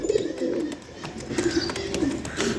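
Fancy pigeons coo in a market for cheap birds, repeated low rolling coos close by with faint ambient noise between them.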